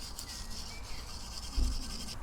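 A large wire brush scrubs a painted car wiper arm from a Mk5 Golf R32, roughing the surface with a steady, close scratchy rasp that swells briefly near the end.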